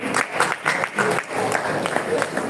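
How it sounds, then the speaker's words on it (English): A live audience claps for the next speaker at a Web3 talk, with short, moderate bursts of applause in a pulsing rhythm that continues throughout. "A round of applause."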